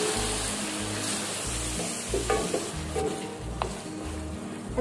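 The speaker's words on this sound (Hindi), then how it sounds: "और इसे अच्छी तरह से हम मिक्स करेंगे।" Mutton frying with ginger garlic paste for biryani is stirred in a pan, giving a continuous sizzle with rhythmic scraping strokes and occasional clinks of the spoon against the pot.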